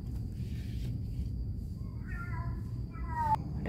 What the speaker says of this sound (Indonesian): Ada kucing garong.